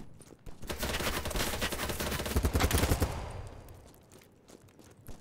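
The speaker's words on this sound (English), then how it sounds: "Oh, they're shooting somebody." Sustained automatic gunfire rattles in BattleBit, loud and dense for about three seconds with rapid overlapping shots, then fading into sparse distant pops.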